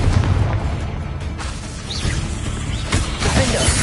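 Confringo spell explosions in Hogwarts Legacy combat, booming blasts and crackling bursts over a dense, steady battle din, loud throughout.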